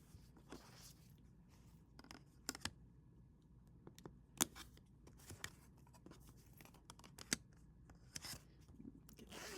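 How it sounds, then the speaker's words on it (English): Scissors snip through zipper tape, trimming it even with the zipper's edge while sewing a basic zipper bag; sharp, scattered snips and crunches sound close and quiet, with no talking. "I'm going to just cut it even with the zipper"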